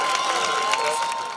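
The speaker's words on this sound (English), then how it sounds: "Let's hear it for the Garber High School cheer team." A crowd at a high school varsity football game cheering for the Garber High School cheer team, a brief steady roar of cheers and shouts that fades at the end.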